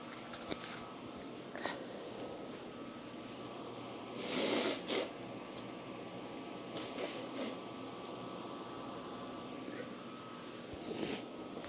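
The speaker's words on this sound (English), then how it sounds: "you heard that whole sniffle" A person sniffles close to the microphone, with a loud nasal snort burst midway and a few smaller sniffs around it, set against a constant low hum of air conditioning or a fan.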